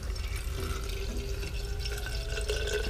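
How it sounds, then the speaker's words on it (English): Vinegar and hydrogen peroxide poured into a container for gold recovery, a close continuous trickling and splashing of liquid with no talk. "let's add the vinegar and the hydrogen peroxide"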